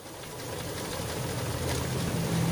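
A carburetor car engine idles with a low, steady drone that swells gradually louder as its revs are raised, heard alone and up close.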